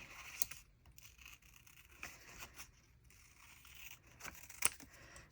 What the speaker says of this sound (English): I'm turning the paper and lightly pressing down on the scissors at the same time